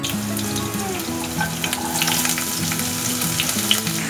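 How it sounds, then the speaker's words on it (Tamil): Continuous loud sizzling and crackling of chopped onions frying in hot oil, with faint stirring scrapes. "இப்போ இந்த வெங்காயத்தை நம்ம நல்லா கோல்டன் ஆகுற வரைக்கும் ரோஸ்ட் பண்ணணும்"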